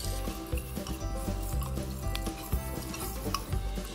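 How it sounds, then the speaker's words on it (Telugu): Chicken pieces coated in spices and turmeric are stirred in a pot for chicken pindicharu, a steady loud scraping and clattering of the spoon against metal with a faint sizzle underneath and no talking. "చికెన్ ముక్కలకు కలిసేలాగా బాగా కలపాలి"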